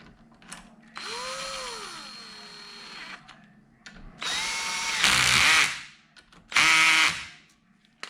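Connecting rod bolts are run in with a power driver and socket during engine rebuilding: a long whirring spin that winds down, then two shorter, louder bursts of tool whine with clicks between them, close by.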